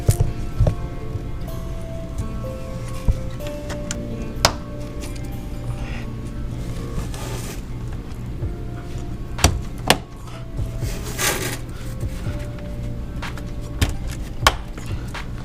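Snap-on bolts being fitted to a car strut bar, giving a few sharp, isolated clicks and snaps spread across a steady low background hum.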